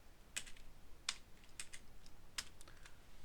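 Keys clacking on a computer keyboard as a command is typed, a few sharp separate taps spaced unevenly over a quiet background, close and clear with no voices.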